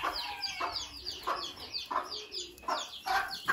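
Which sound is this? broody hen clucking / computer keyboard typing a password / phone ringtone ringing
broody hen clucking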